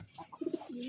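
Giribaj and desi pigeons, including young birds, coo in a few soft, close throaty pulses, ending in a longer drawn-out coo, with no talking.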